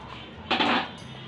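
A spoon scrapes and clatters briefly in a metal cooking pot as slit green chillies are stirred in for beef biryani. It is a single short stirring sound over low kitchen background noise.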